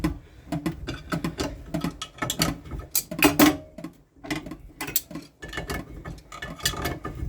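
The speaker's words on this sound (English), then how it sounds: "Finally, last step, you'll have to take this little set bolt apart." A small set bolt is worked loose and taken apart on a hand well pump for an off-grid water supply. Close metallic clicks, clinks and light knocks come in irregular bursts with short pauses between them.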